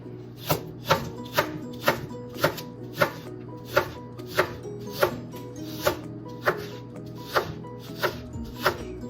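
A knife chops ingredients on a cutting board for Jamaican ackee and saltfish, about twenty even, steady strokes with crisp clear hits and nobody talking.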